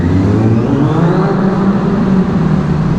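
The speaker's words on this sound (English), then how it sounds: "you get some nice bike sound" A KTM Supermoto motorcycle engine runs steadily while riding, a loud, continuous droning hum with faint wind rush and no breaks or shifts across the few seconds.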